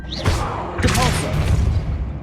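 A Depulso spell is cast in the wizarding game Hogwarts Legacy, a forceful magical whoosh and burst with a low booming impact, loud and close, followed by a rumbling tail amid combat noise.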